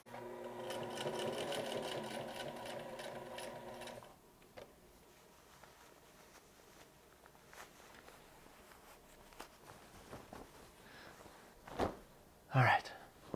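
A sewing machine stitches the front and back of a button-up shirt together at the shoulder, running in a steady loud burst for about four seconds before stopping, followed by quiet handling noises and a few faint clicks.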